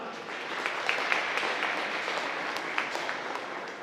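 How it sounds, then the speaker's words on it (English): An audience at a school presentation claps steadily for a few seconds, a dense even patter of hands heard from within the crowd. "give them a round of applause"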